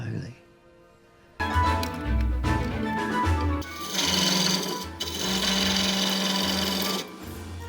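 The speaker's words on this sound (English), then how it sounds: "So that sound you're hearing is actually vibration, and it's causing the tool to cut like this." A skew chisel chatters against rosewood spinning on a lathe, a harsh buzzing rattle that starts abruptly after a quiet moment, then runs loud and steady with brief dips between passes.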